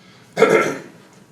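A single short, rough throat clearing or cough burst, close and fairly loud, lasting about half a second before fading back to quiet, during a county budget meeting presentation.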